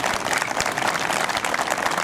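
An audience at an outdoor town council meeting in the square applauds, a dense, steady patter of many hands clapping at close range with no talk over it.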